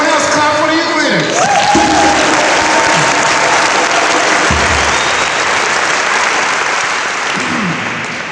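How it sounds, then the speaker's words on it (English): An audience claps loudly and steadily for a group of youth leaders at a gathering, the applause dense and sustained for several seconds with a few cheers and voices mixed in. "clap for the youth leaders"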